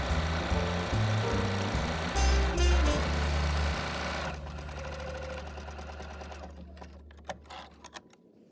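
A sewing machine runs a fast, steady zigzag stitch down the length of a fabric bookmark, whirring loudly and close, then slows and stops, leaving a few faint clicks and handling sounds near the end.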